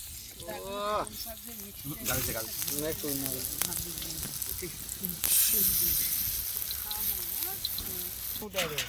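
Spinach fritters deep-frying in hot oil, a continuous sizzle and hiss running beneath a talking voice, with a sharp hissing burst midway.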